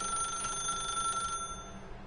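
A telephone rings in the video game The Stanley Parable, a steady electronic trill heard alone at moderate level before it cuts off partway through.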